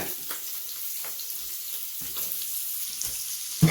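Scallops searing in a hot pan, a continuous moderate frying crackle with a few light clicks, heard alone.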